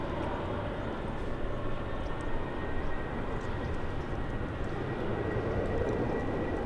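WestJet airliner taking off at LAX, a continuous distant jet roar holding steady throughout, broad and rumbling with no voices over it.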